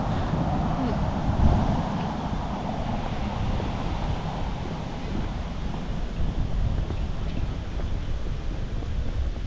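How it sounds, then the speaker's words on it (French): Strong icy wind roaring and buffeting outdoors in Oslo, a continuous low rumble with gusty swells and no pauses. "t'as un putain de vent glacial"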